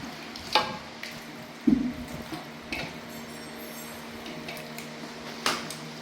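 A spoon stirs chicken biryani mixture with yogurt in a pot, giving soft scraping and occasional metallic clinks against the pot over a low kitchen hiss; the sounds are sparse, faint and irregular.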